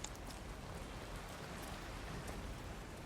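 Raindrop noises played through a PS5 controller speaker in Resident Evil Requiem, a faint, steady patter of rain with soft hiss, alone without talk.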